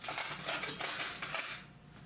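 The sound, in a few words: spoon scooping and dropping cookie dough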